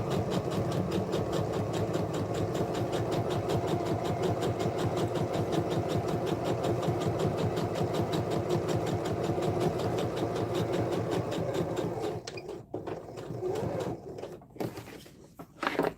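Sewing machine running a steady, rapid stitch while top-stitching oilskin fabric for a tote bag, a continuous close mechanical chatter that stops near the end, followed by scattered handling sounds.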